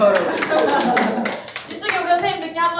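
Audience members at a volunteer training session in Suncheon clap in short uneven bursts, with someone speaking and chatter over the clapping.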